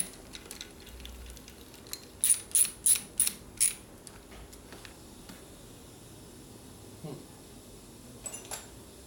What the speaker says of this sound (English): me take some more screws off.